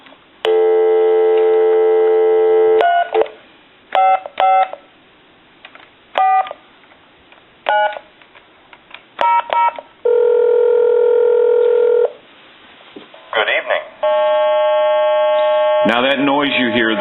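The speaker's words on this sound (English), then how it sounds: "I'm going to try to dial a time and temp number." A telephone on speakerphone dials a time-and-temperature number: bursts of touch-tone beeps and short repeated tones, with a sustained dial-type tone near the start and a warbling signal at the end.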